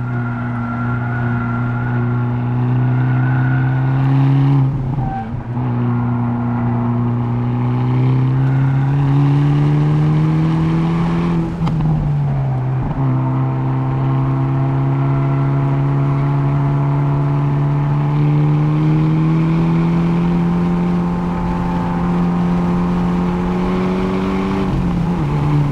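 A 2022 Hyundai Elantra N on a hot lap around a race track, its engine droning loud and steady from close by, with the pitch climbing, dropping sharply at gear shifts, and climbing again.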